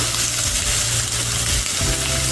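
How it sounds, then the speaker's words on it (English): Steady, loud sizzling and crackling of chicken frying in a hot pan, continuous throughout with a slight dip near the end. "When the food starts to drop on there, it starts to sizzle."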